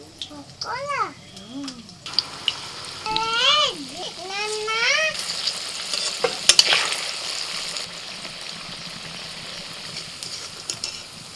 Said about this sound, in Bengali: এটা তো ফুলকপি পকোড়া করছি তো